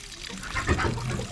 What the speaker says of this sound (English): It's gonna be a lot of water.